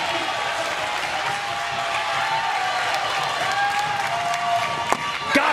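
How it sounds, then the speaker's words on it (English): Little League World Series crowd at a Florida versus Michigan game, a loud sustained roar of cheering and clapping on a bases-loaded full count, with whistles and a couple of sharp claps near the end. "And the Florida crowd getting into it."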